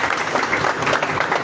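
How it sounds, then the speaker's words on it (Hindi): Audience applause at a formal teacher-student ceremony in Lahore, a dense continuous wash of many hands clapping at fairly close range, steady and unbroken for the whole moment. "और अब मैं उनके साथ आपकी स्पेशल तालियों में दावत दूंगा उस्ताद उस्मान"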